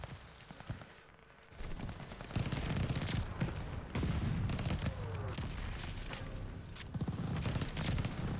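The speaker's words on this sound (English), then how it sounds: "Allied mortar fire coming." Allied mortar fire in Call of Duty: Vanguard lands among dense, rapid gunfire, with repeated sharp bursts and booms layered over a constant battlefield din, growing louder after the first second.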